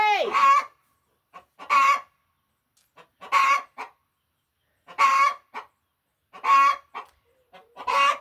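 Chickens cluck and squawk in short, repeated bursts with brief gaps between them, nearby and fairly loud, and a rooster-like call opens the sequence.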